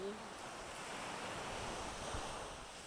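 Ocean waves wash steadily onto the beach at Hayama Park, a broad continuous surf roar mixed with wind buffeting the microphone, close and fairly loud, with no talk.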